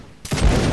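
Musket volley fired by a line of soldiers in the Mount and Musket video game, a single sudden crackling burst of many shots merging into one loud rolling blast after a quiet moment.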